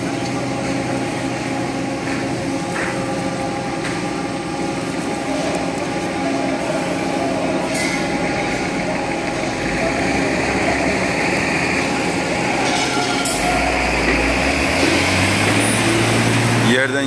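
A crane lifts a long, heavy steel roof structure at a construction site, with a steady loud engine hum and machinery rumble running throughout, a few faint metallic knocks on top.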